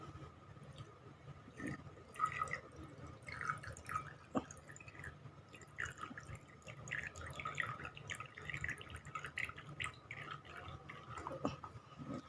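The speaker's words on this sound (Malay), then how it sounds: "Okey, kita tuangkan petrol dalam lubang ni." Petrol trickles and drips as it is poured into an opening in an engine during valve grinding work: a quiet, steady dribbling with scattered drips that continues for about twelve seconds.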